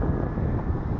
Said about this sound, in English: 15 km/h wind.